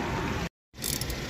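A ratchet tightens a bolt on the brake caliper of a 2021 Toyota Camry LE, giving close dense clicking that breaks off for a moment and then resumes with a few sharper clicks.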